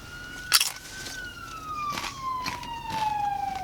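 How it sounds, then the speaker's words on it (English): An ambulance siren passes at a distance, its steady tone slowly falling in pitch as it goes by, faint beneath the clatter and crunch of people eating at a Mexican restaurant. "There's an ambulance."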